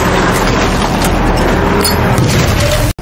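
Smoke bombs are thrown toward enemy soldiers in a sniper action film. A loud, dense, continuous roar of hissing and rumbling battle noise fills the whole scene without a break, with no voices.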